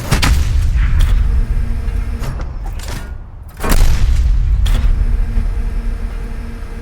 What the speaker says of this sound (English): Here I can show you a work in progress artillery cannon.